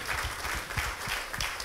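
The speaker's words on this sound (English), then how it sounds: "Let's give the Lord a hand clap." A church congregation at a Sunday morning worship service claps together in a dense, even wash of applause, with low vocal bursts mixed underneath, brief and steady throughout.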